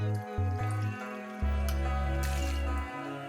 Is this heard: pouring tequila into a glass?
yes